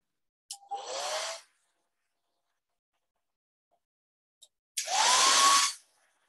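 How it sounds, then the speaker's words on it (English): A handheld hair dryer blows on fresh paint on a wooden sign in two bursts, a short one and then a longer one, with a quiet pause between them. "let me just dry this really quick with this hair dryer"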